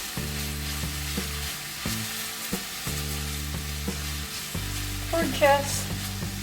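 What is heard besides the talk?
stir-frying onions in a pan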